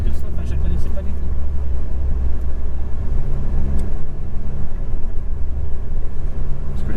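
Alpine A110 sports car driving on small country roads, its engine a steady loud rumble from inside the cabin throughout, with no speech.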